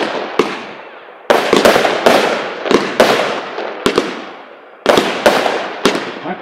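A firework battery fires loud, sharp report after report at an outdoor product demonstration: irregular bursts of cracks, some in quick clusters, each trailing off before the next volley.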